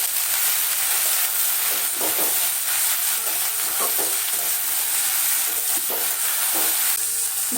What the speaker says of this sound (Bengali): ভাজাটার মধ্যে আমি শুধু হলুদ দিয়েই ভাজবো